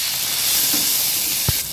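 Tomatoes dropped into hot tempering oil with mustard seeds, dried red chillies and salt, giving a loud, steady hiss of sizzling with one brief crackle near the end.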